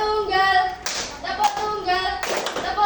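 An elementary classroom plays a single-clap game, with a few sharp, bunched claps from the pupils spaced apart over a teacher's sustained voice talking in the room.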